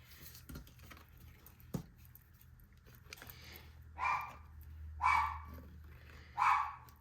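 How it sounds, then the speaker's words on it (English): A dog barks three times from another room, about a second apart. The barks are faint and muffled, and scattered small clicks and taps come before them. "Sorry, my dog is barking, if you can hear that."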